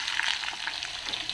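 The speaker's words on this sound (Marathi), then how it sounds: "मीडियम गॅसवर हे चिकन आता आपल्याला फ्राय करून घ्यायचं" Chicken pieces fry in oil over a medium gas flame, likely for chicken 65, giving a steady, close, even sizzle with soft bubbling crackle throughout and no talk.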